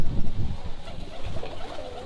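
Pigeons cooing at close range at a Uyghur family's home in Xinjiang, China, giving low, throaty, rolling coos that repeat throughout, with faint background noise.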